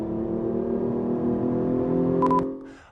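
A 2015 Hyundai Genesis Coupe with a 3.8-liter V6 and an intake sound generator hums steadily with a tonal engine drone, swelling slightly before cutting off near the end, alone without voices.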